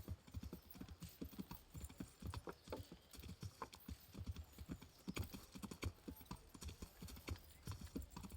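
Rhythmic hoof clops on a hard surface in the video game Kingdom Come: Deliverance, a quick steady trotting beat repeating throughout, fairly close, with no other sounds standing out.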